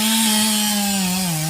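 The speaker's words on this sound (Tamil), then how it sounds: "அங்கே மகாகனி மரம் கட்டிங் போயிட்டுருக்கு." A saw cuts through a mahogany tree on a teak plantation, a loud steady engine drone holding one pitch and sagging slightly near the end, close by with no talking.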